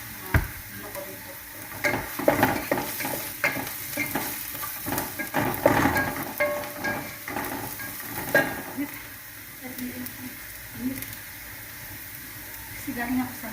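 Onions sizzle and fry in a pan with garlic already in it, stirred in irregular scraping bursts; a voice talks intermittently over the cooking.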